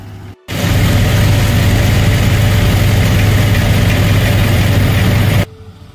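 A tractor engine runs during paddy harvest in the field, a loud steady diesel rumble that starts suddenly after a brief gap and holds for several seconds before dropping to quieter background.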